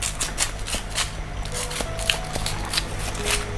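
Repeated knife strokes slicing through fish on a board, short crisp cuts in an uneven rhythm, close by, over a low steady background hum.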